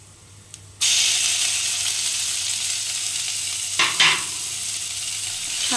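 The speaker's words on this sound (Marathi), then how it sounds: "आता ह्याच्यामध्येच आपण बारीक चिरलेला कांदा घालूयात।" Finely chopped onion hits hot oil in a pan for dahi vanga, a sudden loud sizzle that stays steady and bright, with a couple of brief spoon scrapes near the end and no talk.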